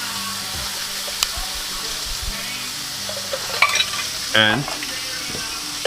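Black beans sizzle steadily in a hot pan as they are stirred, with scraping utensil clicks, a brief squeaky scrape near the end, and a single short spoken word.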